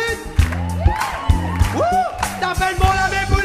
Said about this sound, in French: Vous demandez un applaudissement bien fort à la flûte.